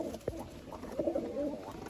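Pigeons in a pigeon loft give soft, low coos, several short calls close by and fairly faint against quiet background noise.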